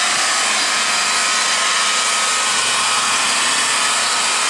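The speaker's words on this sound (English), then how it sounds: "And then I'll take my buffer and just start back and forth." A car paint buffer running at about 1200–1400 RPM keeps up a loud, even motor whir with a bright, hissing edge as it polishes back and forth across the paint.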